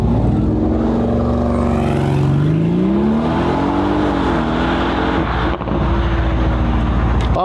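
A 1200-horsepower full-carbon supercar launches hard on a quarter-mile run on private property, its loud engine note climbing steadily through the gears with a brief dip at a shift, close and continuous, with no voices.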